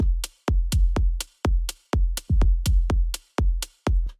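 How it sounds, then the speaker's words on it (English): Short electronic percussive hits in a melodic house track, made with stock sampler sounds, repeat in a steady rhythm about twice per second, loud and alone with no talking. "After that, I added some hi-hats,"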